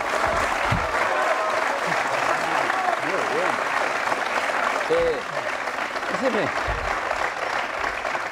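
A studio audience applauds steadily throughout on an Argentine football show about a first-division team, broad continuous clapping with a voice talking over it and a short spoken word near the start.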